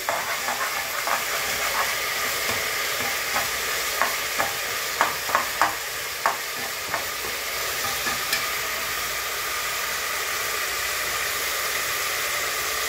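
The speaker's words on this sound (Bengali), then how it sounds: "এবার সবজিটা তো বেশিক্ষণ ভাজলে গলে যাবে, ব্যাস হাফ চামচ রসুন দিয়ে দিলাম" Vegetables frying in a pan with half a spoon of garlic added, a continuous hissing sizzle with scattered sharp clicks and taps of stirring in the middle stretch, close and steady, with no voices.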